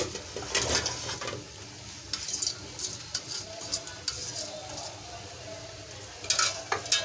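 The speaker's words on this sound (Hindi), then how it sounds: "तेल गरम होने के बाद सबसे पहले मैं इसमें जो हमारी प्याज है वो शामिल करूँगी।" Onions frying in hot oil in a pan for okra curry, a steady crackling sizzle with stirring scrapes and brief louder bursts, heard close with no talk.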